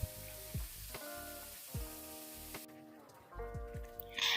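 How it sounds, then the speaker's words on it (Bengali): Hilsa fish pieces shallow-frying in mustard oil in a frying pan, a steady close sizzle joined by intermittent clinks and knocks of a utensil against the pan, with faint background tones. "একটি ফ্রাই প্যানে সরিষার তেল দিলে মাছগুলোকে এপিট ওপিট হালকা বাদামি কালার করে সুন্দর"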